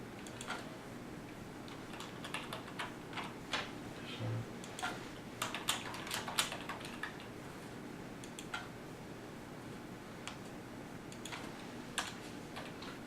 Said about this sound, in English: we're just typing in the details of the job.